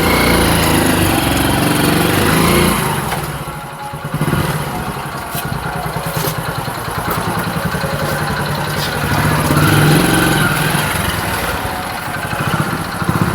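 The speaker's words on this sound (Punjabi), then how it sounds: "ਚਲੋ ਭਾਜੀ ਮੋੜੋ ਮੋਟਰਸਾਈਕਲ ਚੱਲੀਏ ਫਿਰ" A motorcycle engine runs steadily and loudly close by, idling and then revving as the bike pulls away from a roadside spot near a village fair, the drone holding throughout with no voices.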